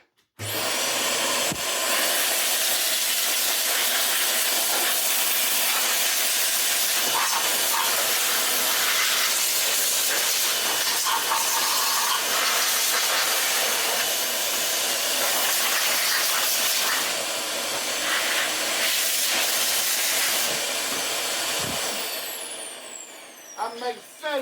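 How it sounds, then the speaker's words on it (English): A blower built from a 1950s paint sprayer fitted with a Dyson-compatible 1600-watt motor runs in a loud, steady high-pitched hissing rush of air for about twenty seconds, then winds down with a falling whine. "we shall use my blower, which is a 1950s paint sprayer with a Dyson 1600 watt compatible motor fitted"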